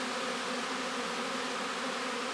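Honeybees flying outside the shed where they wintered, a dense steady buzzing hum of many wings close to the microphone, continuous and even without any voices.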